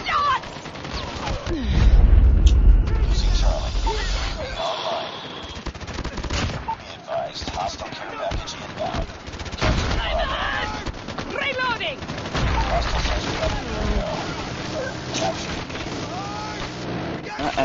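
Automatic gunfire in a Call of Duty multiplayer match, with loud bursts and single shots plus a booming impact, running almost nonstop under game sound effects and bits of spoken callouts.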